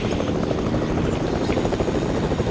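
A video game helicopter's rotor thumps steadily and loudly throughout, a continuous dense drone with no pauses.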